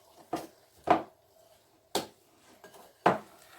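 A spoon knocks and scrapes against a bowl while mixing pink-coloured batter, making four or five separate, fairly faint clinks spaced unevenly apart with quiet between them and no talking.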